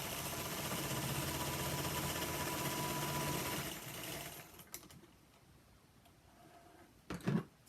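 A Singer 222 sewing machine stitches fabric squares with a fast, steady whirring hum for about four seconds, then stops, leaving quiet room noise and a couple of faint knocks.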